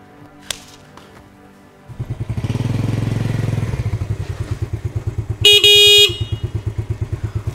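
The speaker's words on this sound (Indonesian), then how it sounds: "Wah, motor jemputan saya sudah datang, Pak." A motorcycle arrives nearby, its engine swelling into a loud, steady drone before settling into a pulsing idle, with a bright horn blast in the middle.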